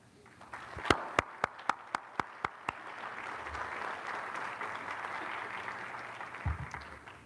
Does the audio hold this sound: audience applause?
yes